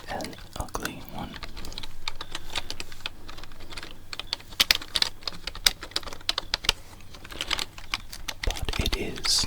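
Rapid typing on a computer keyboard, close and crisp, the clicks coming in irregular bursts and runs with a soft voice speaking quietly underneath.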